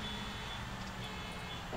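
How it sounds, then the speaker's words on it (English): A train in the Train Simulator 2013 game emits a steady electronic beeping tone as it shuts down, continuous and moderately loud over a dense background hum, with no talking. "It beeps when it turns off."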